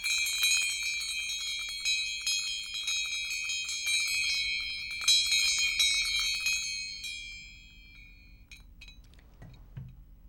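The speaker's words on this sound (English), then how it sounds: "Just listen to the bell for a minute." A meditation bell rings with bright, sustained metallic tones and repeated strikes, used for relaxation; the ringing decays over several seconds into near silence, with a faint clink at the end.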